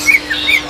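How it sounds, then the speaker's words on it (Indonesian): A female green leafbird (cucak hijau) calling, short high chirps and whistled notes repeated several times at close range over a faint background hum. "Ini bunyi terus dari tadi ada cicak hijau,"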